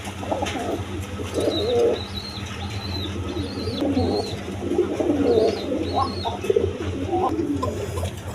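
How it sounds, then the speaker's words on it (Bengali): A female Arabian koka pigeon coos close by in repeated soft, rolling phrases over a low steady background hum, with no voices. "দেখেন ওই যে মাদিটা ডাকতেছে"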